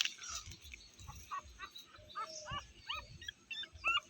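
Several dogs outdoors give short yips, whimpers and barks in irregular bursts, fairly faint and at a moderate distance, with light background noise.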